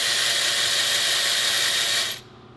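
A ratchet winds rapidly on a C8 Corvette's spark plugs, a loud continuous clicking whir up close that cuts off abruptly near the end.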